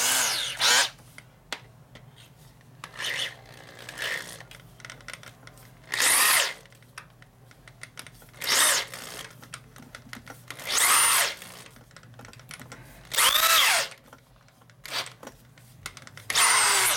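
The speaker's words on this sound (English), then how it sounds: "So this will drill the rest of the hole in there" A power drill bores a hole through a heavy aluminum motorcycle part on a custom chopper, running in several short loud bursts with pauses between them, close by with no talking.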